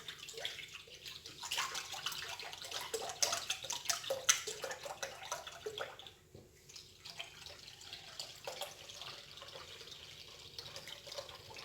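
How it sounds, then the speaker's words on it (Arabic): Milk is poured from a liter container into a pot while preparing a biscuit-layer dessert, a steady liquid splashing and gurgling that runs for several seconds, dips briefly, then continues at a soft, even level with no talk. "كنوضعوا لتر حليب"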